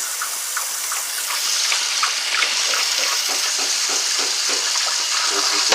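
Tap water gushes steadily into bottles being filled, a bright, continuous splashing hiss at close range that keeps going throughout.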